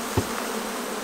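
Honey bees buzz in a dense, continuous hum at an open hive being smoked, close up and fairly loud, with a soft knock early on and no talking.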